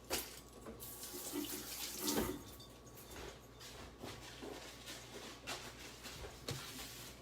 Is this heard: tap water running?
yes